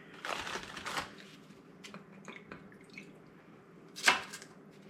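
Nutter Butter cookies dipped in liquid and pressed into a pan for a no-bake cheesecake crust, with soft close crunches, wet clicks and scattered small taps, ending in one sharper snap.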